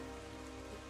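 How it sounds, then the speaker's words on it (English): Light rain falls in a forest, a steady, even patter of drops on surfaces with no voices. "bright-ish rainfall for the moment"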